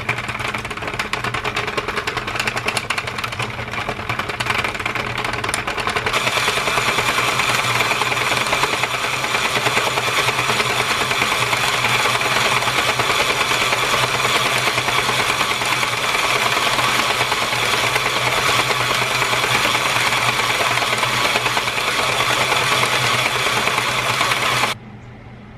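A knitting machine runs steadily for a long stretch, working row after row of a cover for a styrofoam mannequin head: a continuous mechanical carriage clatter and whir that stays loud and even until it stops abruptly near the end.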